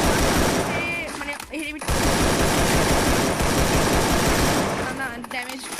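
Rapid, dense automatic gunfire rattles on almost without pause in an online squad-versus-squad shooter match, loud and close, dropping out briefly twice, with a voice talking over it at moments.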